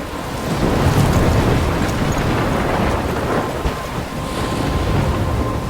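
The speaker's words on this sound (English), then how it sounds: "I'm trapped in a storm?" A thunderstorm in the game Life is Strange, with loud, steady roaring wind and rain and deep rumbles that stay constant throughout, with no talking.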